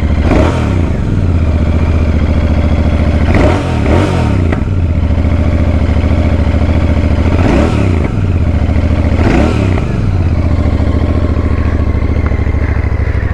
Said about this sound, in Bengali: এবারে স্টার্ট করলাম। ওয়াও ওয়াও, এক্সস্ট নোটটা শোনো, হ্যাঁ মন দিয়ে শুনবে।